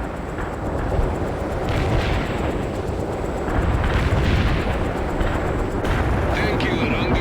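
Incoming artillery fire in the World in Conflict video game, a dense, continuous rumble of heavy blasts and booms filling the scene at high volume, with radio voices talking over it.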